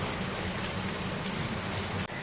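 Heavy rain pours steadily during a monsoon evening in a village home, a dense, continuous close hiss of water that cuts out abruptly near the end.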